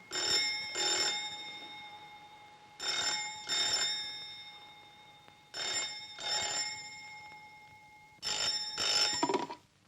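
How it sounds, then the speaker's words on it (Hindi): A landline telephone bell rings in a household scene: four double-burst rings with a steady pause between them, bright and moderately loud, and no voices. "जरा देखो तो किसका फोन है."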